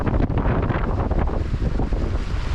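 A strong southwesterly wind gusts across Lake Bala from a sailboat, buffeting the microphone with loud, continuous roaring rumble and no voices.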